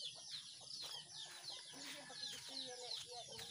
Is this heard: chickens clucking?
yes